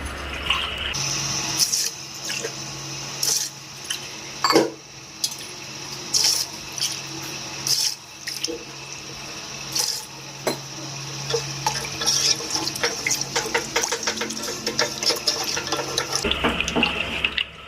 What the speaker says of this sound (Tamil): நான் ஃபைவ் கிளாஸ் ஆஃப் வாட்டர் நான் உள்ளே ஆட் பண்ணிக்கிறேன்